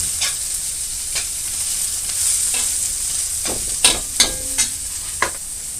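Ginger, garlic and onion stir-fried in a pan without oil, giving a steady close sizzle with a few sharp scrapes and knocks of the spatula against the pan near the end, and no talking.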